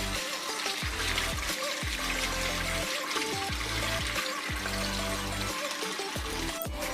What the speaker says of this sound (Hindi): पानी से अच्छी तरह धो लें।